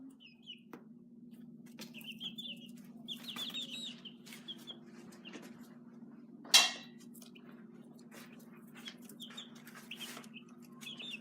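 Young chicks in a cage at feeding time on a farm, soft scattered peeps and clucks over a low steady hum, with one sharp brief clatter midway.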